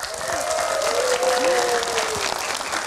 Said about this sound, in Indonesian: tepuk tangan sekali lagi yang meriah untuk kita semuanya Bapak Ibu biar lebih semangat